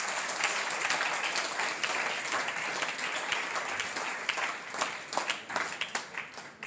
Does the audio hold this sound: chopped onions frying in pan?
no